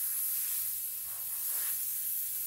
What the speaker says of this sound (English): So now my airbrush is full of alcohol. Still spraying pink.